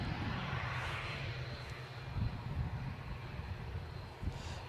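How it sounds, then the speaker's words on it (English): An EasyJet Airbus A320 arriving at Edinburgh airport gives a steady, fairly faint broadband jet roar from a distance outdoors, with no talk. "So next inbound, EasyJet 320 from Bristol."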